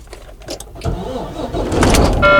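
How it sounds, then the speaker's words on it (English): A heavy Volvo VNL semi truck diesel engine cranks and turns over, building into a rough, rumbling idle that grows louder, with a faint high whine near the end. "So I'm gonna get it started up."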